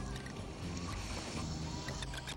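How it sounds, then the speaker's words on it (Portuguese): An aluminium jet boat driven by three 500 hp jet engines powers along the Niagara River, giving a steady, close, broadband roar of engines and rushing water with no pauses. "Este barco com motor a jato é uma das mais novas maneiras que os turistas podem vivenciar o Niágara"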